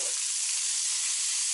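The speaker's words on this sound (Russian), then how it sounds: "Чтоб мясо не сгорело, будем его по бырику переворачивать." Pork chops sizzling while frying in a pan, a steady, loud bright hiss that runs unbroken and alone throughout.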